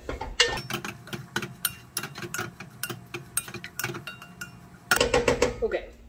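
A pan of turkey and kale for a garlicky soup is stirred, with a spoon clinking and scraping against the pan in quick irregular taps, briefly louder near the end.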